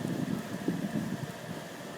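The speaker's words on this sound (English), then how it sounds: "Look at the rain right there." Steady rain pours down during a thunderstorm, heard outdoors as a dense, even hiss. Some wind buffets the microphone throughout, and no one speaks.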